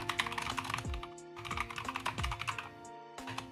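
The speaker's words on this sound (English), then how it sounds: "Love this old keyboard. It's so cute because it's white and green." Close, steady typing on an old white and green computer keyboard, a dense run of clicky keystrokes with occasional heavier thumps from larger keys, no voices over it.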